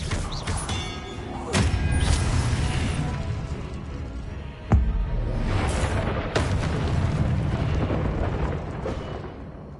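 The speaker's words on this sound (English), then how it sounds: "Expelliarmus!" Expelliarmus spell cast in a Hogwarts video game, a loud rumbling burst with several sharp booming impacts over a continuous roaring wash of effects.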